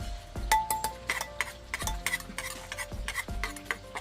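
Thai cucumber salad (tam taeng) is pounded in a mortar, a few heavy rhythmic thuds spaced about a second and a half apart, mixed with scraping and clinking of utensils in a busy kitchen.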